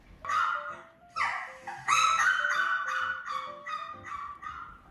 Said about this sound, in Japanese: この犬の鳴き声の音を流してるけど